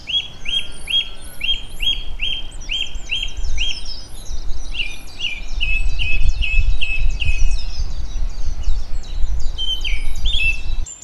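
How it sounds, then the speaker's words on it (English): A song thrush sings loud, repeated whistled phrases at a canal mooring beside a narrowboat, over a low background rumble, with no talking. "oh wow, listen, a song thrush"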